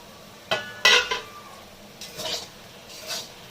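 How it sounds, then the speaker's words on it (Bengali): Metal cookware clatters as a pot lid is lifted while greens fry over low gas: a couple of sharp clinks and a scrape near the start, then softer handling sounds and faint sizzling, with no voices. "তো আমি এবার ঢাকনাটা খুলে দেখবো"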